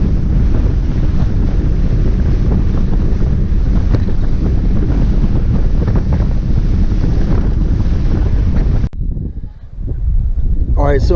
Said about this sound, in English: it's a little breezy, but hopefully everybody can hear me